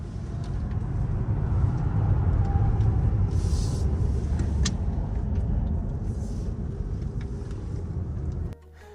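Nexen N'Priz S tires rolling on the road while driving, a steady low broadband rumble and hiss from inside the car, fairly even throughout, then cutting off abruptly near the end.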